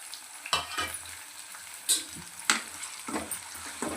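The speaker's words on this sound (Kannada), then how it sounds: "ಈರುಳ್ಳಿ ಚೆನ್ನಾಗಿ ಬೇಯ್ತಿದೆ. ಕರಿಬೇವಿನ ಸೊಪ್ಪು ಕೂಡ ಹಾಕ್ಕೊಂಡಿದ್ದೀವಿ." Onions with curry leaves frying in a pan, a low quiet sizzle punctuated by a few sharp scraping stirs and clanks of a spatula, spaced irregularly, with no one talking.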